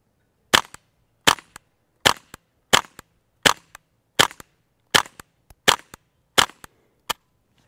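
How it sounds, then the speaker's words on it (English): Suppressed rimfire gunshots from a Ruger 10/22 takedown and a Savage rifle firing CCI standard velocity ammunition through a titanium modular silencer, about ten sharp cracks at a steady pace, each followed by the click of the action, with no talking. "using CCI standard velocity and suppressor ammo through my Ruger 2245 10-22 takedown and my Savage BFESR"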